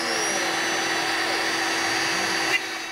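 A CNC machine cutting acrylic runs with vacuum dust extraction through a fitted dust shoe, making a steady, loud rushing whine that holds constant, with one brief click near the end.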